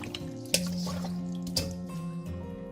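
Raw fish being rinsed and rubbed by hand in water after a salt and vinegar-style wash, giving close dripping and splashing with a couple of sharp wet slaps over a steady watery background.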